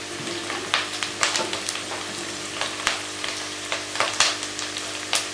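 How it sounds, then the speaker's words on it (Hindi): Coarsely cut onions fry in hot oil for an aloo matar with carrots and peas, giving a steady close sizzle broken by sharp crackles and pops, with no talking. "प्याज को मैं थोड़ा सा फ्राई कर लूँगी।"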